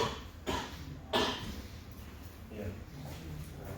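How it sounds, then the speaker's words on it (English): A person with a lingering illness coughs twice in short bursts, close to the microphone, during a workshop, with quieter murmured talk between the coughs. "I'll be coughing a little bit"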